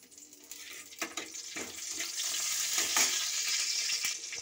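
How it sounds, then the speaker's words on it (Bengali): Chili tempering in hot oil in a wok, a loud continuous sizzle and crackle that swells after the first second and stays strong and close, with a few stirring clinks and no voices. "এখানে আমি কড়াতে সম্বরা লঙ্কা দিয়ে দিচ্ছি।"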